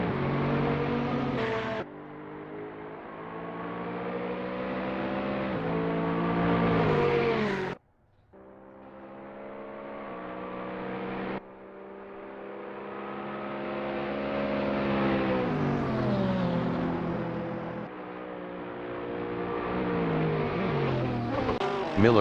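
A Ferrari 488 GT race car lapping Virginia International Raceway, its high engine note climbing through the gears with sharp upshift cuts and brief lifts, loud and sustained, a commentator talking over it.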